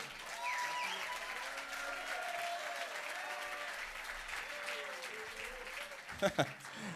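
Sustained audience applause with a crowd murmur, steady throughout, with a couple of brief louder bumps near the end.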